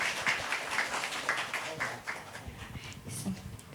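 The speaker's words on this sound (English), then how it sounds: "let's show our appreciation for Dr. Tsui Lee Kang with a round of applause" An audience at a lecture on digital humanities infrastructure gives a round of applause, moderately loud, steady clapping across the whole stretch.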